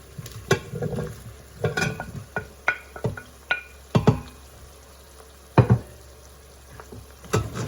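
Broccoli stalks sautéing in a pot on a saute setting, giving a low background sizzle broken by repeated sharp clacks and scrapes of a utensil stirring.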